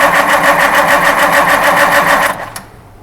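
Old engine cranked on battery power, turning over in a fast, loud, rhythmic chugging for about two seconds before stopping abruptly.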